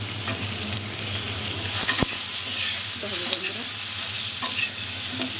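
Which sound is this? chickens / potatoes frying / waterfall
potatoes frying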